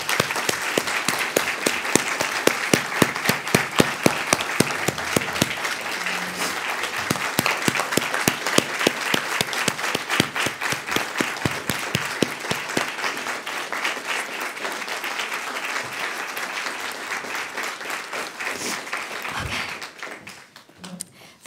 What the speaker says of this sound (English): I hope everyone in this room will join together with me and give them a round of applause.